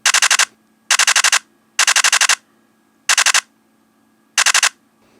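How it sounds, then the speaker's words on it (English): Nikon camera playing its digital shutter sound option: five bursts of rapid electronic clicks, each a quick stuttering cluster about half a second long, evenly spaced with silence between, close and fairly loud. "First of all, we have A, which is a digital shutter sound."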